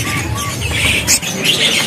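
Busy calls and squawks of a white-breasted woodswallow, several harsh chirps over a noisy bird-market background, close and fairly loud.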